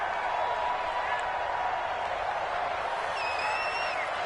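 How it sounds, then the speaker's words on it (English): A steady, dense roar of a stadium crowd fills a PS4 football video game near the goal line, a continuous wash of cheering and murmur with a faint rising whistle toward the end. "You can already start to hear this crowd. They're saying, go for it."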